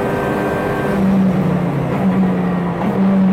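A front-wheel-drive race car on track drones with a loud, steady engine tone from inside the cabin, holding pitch with slight surges and no talking.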